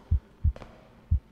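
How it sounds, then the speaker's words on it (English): A heartbeat in the horror game [REC] Shutter thumps as low, deep pulses, a quick double beat then a single one after a pause, close and heavy over a faint hum, with no talking. "You can hear your heartbeat."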